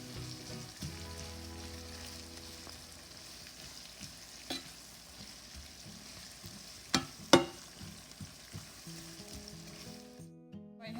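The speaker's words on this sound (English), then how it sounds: "This is the first pound that I'm adding to the translucent onions." Minced beef sizzles steadily with translucent onions in a pan, a close, even frying hiss broken by a few sharp utensil clinks before it cuts off abruptly.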